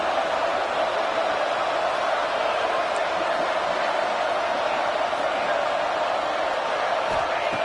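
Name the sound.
stadium crowd cheering at football game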